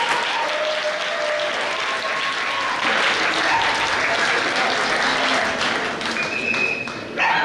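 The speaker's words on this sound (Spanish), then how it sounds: "recibiendo con un fuerte aplauso al delegado de alumnos del campus de Alcoy" A gala audience at a university campus festival in Alcoy applauds a student delegate with a steady, dense wash of clapping that holds throughout and fades slightly near the end.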